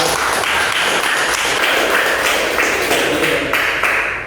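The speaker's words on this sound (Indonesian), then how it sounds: "kita beri tepuk tangan untuk kelompok" A fifth-grade class applauds a group, loud, close clapping from many children that swells in short rhythmic pulses, as if clapping in a shared beat.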